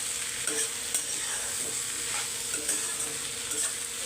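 Okra sabzi frying in a pan as it is stirred, a steady soft sizzle with repeated scraping stirs every second or so, close and quiet with no talking.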